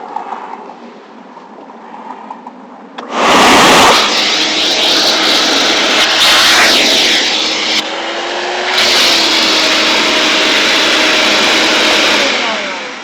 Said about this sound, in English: So we're going to turn the vacuum cleaner on.